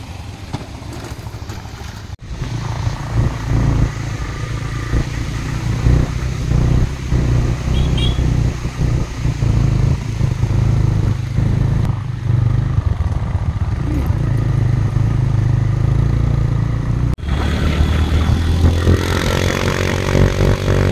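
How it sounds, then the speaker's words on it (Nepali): Motorbikes idle and rev near the Paradise Hotel in Kagbeni, Mustang, as riders get ready for the mountain ride to Muktinath. Steady, loud engine drone persists for the whole stretch, with a few short clunks and brief scattered talk. "केटाहरू बाइक प्रिपेयर गर्दैछन्।"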